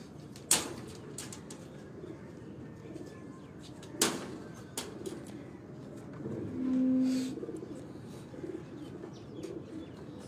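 Pigeons coo softly on a rooftop in Sheikhupura, with one low coo standing out midway over a quiet outdoor hum, broken by a few sharp knocks.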